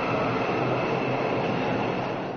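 Driverless metro train on the Üsküdar–Çekmeköy line in Istanbul, a steady, loud rolling rumble with a broad rushing roar throughout, no voices.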